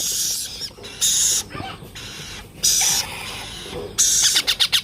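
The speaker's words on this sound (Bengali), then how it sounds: "এখানে ব্লু রিগনেকগুলো রয়েছে প্রায় এক মাস প্লাস বয়সের খাওয়ার জন্য কতটা অ্যাক্টিভ দেখেন" Young blue ringneck parakeets about a month old call in loud, shrill bursts while feeding, several squawking chirps in quick succession and a rapid run of calls at the end, close by with no talk.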